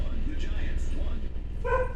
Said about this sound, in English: I'll pause here, see what my dog is barking at.